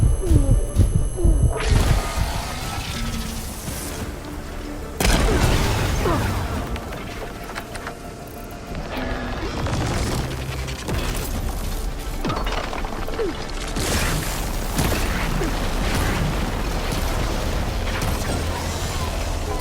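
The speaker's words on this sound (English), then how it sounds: "It's gonna explode any second." Plasma explosion in Horizon Forbidden West: heavy booming crashes and throbbing rumble roll on continuously, with loud impacts early and a sustained low drone afterward.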